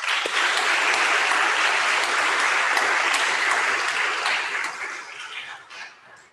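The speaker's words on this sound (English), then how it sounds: "I just want to take this second to give them a round of applause and thank them for their dedication to us." An audience at a nursing convocation applauds in a dense, steady wash of clapping that holds strong for several seconds, then thins out and fades toward the end.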